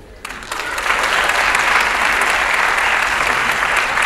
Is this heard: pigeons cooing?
no